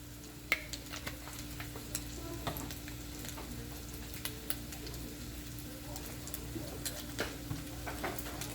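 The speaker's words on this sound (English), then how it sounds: "And all the while, we have to be stirring." Chicken fried rice is stirred in a frying pan with crushed red pepper, curry powder and white pepper added, giving a soft steady sizzle broken by faint scraping clicks and no speech.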